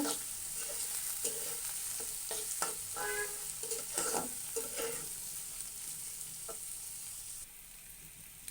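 Prawns frying with onions in a pan, a soft, continuous sizzle with occasional stirring scrapes and clinks, fairly quiet and steady throughout with no one speaking.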